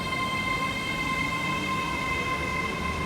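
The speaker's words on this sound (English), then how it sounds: "Notice how much faster this Azuma accelerates." Hitachi Azuma (A300) electric train with distributed traction pulling away from a station, a steady loud rumble with sustained whining motor tones, no voices.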